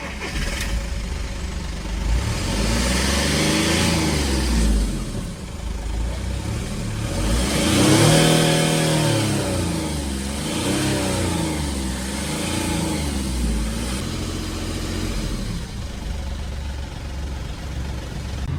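A Skoda Fabia's 1.2-litre three-cylinder engine, well past 200,000 km, revs repeatedly in close, loud surges that rise and fall over steady idle, with the strongest climb midway through and no talking.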